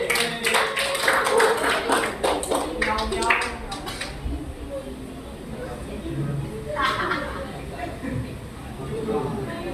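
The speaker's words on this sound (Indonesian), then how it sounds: "tepuk tangan untuk kelompok kucing" Students in a classroom clap for a group about to present, a loud burst of applause for the first few seconds that fades into murmuring voices and scattered sounds.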